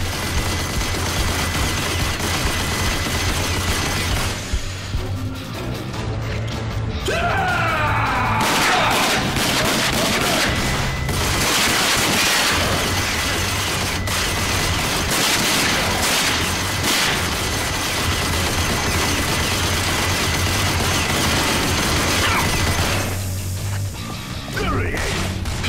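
Heavy enemy turret fire in the shooter Rage, a long loud barrage of shots, crashes and booms with brief lulls, sometimes with shouting over the top.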